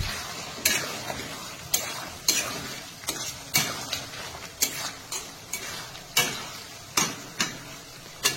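Chicken skin fries in its own rendered oil under a soft continuous sizzle, punctuated by a dozen or so sharp, evenly spaced clinks and scrapes of a spoon stirring in the pan.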